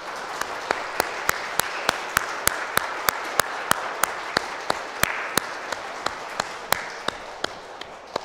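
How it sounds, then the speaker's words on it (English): Schoolchildren at a St Wendelin School Mass give their teachers a round of applause, with distinct sharp claps standing out in a steady rhythm over a softer wash of hand-clapping in a church space. "can you turn to them and give them a big clap"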